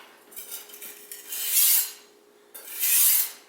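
A steel knife blade being drawn across a sharpening stone, with two long rasping strokes, the second after a brief pause, each swelling and fading, close and clear with no talking.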